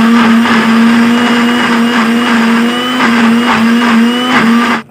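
A kitchen blender whirs steadily to purée hummus with melted butter, a loud continuous motor drone with a strong steady pitch that runs the whole time and cuts off abruptly at the end.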